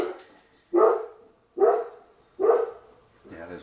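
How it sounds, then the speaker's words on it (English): A pet dog gives three loud, evenly spaced barks close by, with a brief voice starting up right after them. "Yeah, there's my dog."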